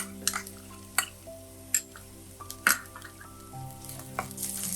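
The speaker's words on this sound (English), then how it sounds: "Add the grated ginger and garlics. Fry them until fragrant." Grated ginger and garlic frying in a little oil in a pan for a sauce, soft sizzling punctuated by sharp scrapes and clinks of a utensil stirring against the pan, close and fairly quiet.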